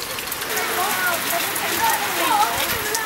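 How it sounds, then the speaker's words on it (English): A sudden rainstorm in Ghana pours down steadily, a dense even hiss of drops striking surfaces with no break, close and moderately loud, with faint voices underneath. "Spontaneous rainstorm."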